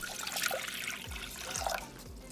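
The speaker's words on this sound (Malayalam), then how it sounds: "വൃത്തിയായ പാത്രത്തിലേക്ക് 2 കപ്പ് വെള്ളം ഒഴിക്കുക." Two cups of water pour steadily into a clean cooking pot for black coffee, a continuous close splashing trickle lasting a couple of seconds with no talking.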